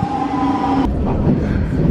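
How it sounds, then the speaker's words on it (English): Steady rumble of a moving airport-bound train carriage between Singapore and Kuala Lumpur, with a brief tonal whine that cuts off partway through, no talking. "And now on the train, on the way to the airport."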